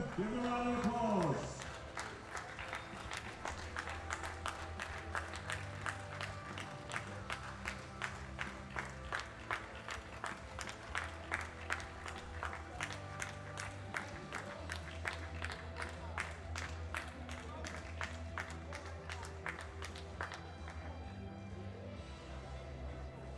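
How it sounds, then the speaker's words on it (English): An arena crowd at a classic powerlifting world championship claps in rapid, steady rhythm for the 120 kg and over lifters, with a brief cheer and a voice at the start. "Give them a round of applause."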